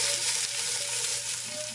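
Onion frying in garlic-scented oil gives a steady, close sizzle that hisses evenly through the short moment without pause.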